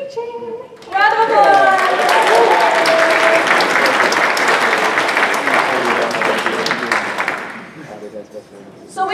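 Loud audience applause at a Bronycon 2015 convention assertiveness panel, bursting in after a brief voice and filling the room steadily for about seven seconds before fading; cheers and voices mix into the clapping.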